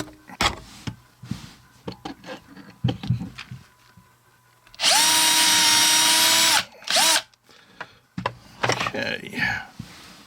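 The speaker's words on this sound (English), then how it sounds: "now we're just going to drill it" A power drill boring holes in a taped-down grip for a Beretta Laramie revolver whines steadily for about two seconds, loud and close, then a short second burst, with brief talk and handling clatter before and after.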